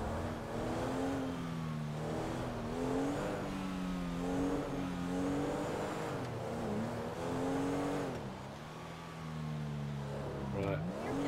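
Car engine driven fast in GTA 5 Online, a steady droning growl that rises and falls as it revs and shifts, continuous and loud through the whole stretch, with a brief dip and sharp change near the end.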